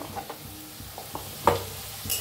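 Potatoes fry quietly in a pan for sabudana khichdi, giving a soft, faint sizzle with a few light stirring scrapes and clinks.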